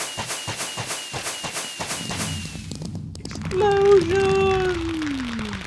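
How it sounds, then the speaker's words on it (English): A Minecraft explosion bursts out as a loud, broad boom partway through, following a run of rhythmic thumping footsteps, with a rising game tone lingering after the blast. "Explosion!"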